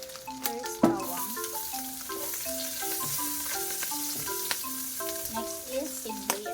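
Garlic sautéing in a pan for pinakbet gives a soft, continuous sizzle with a few stirring knocks, sitting under a louder melodic music track.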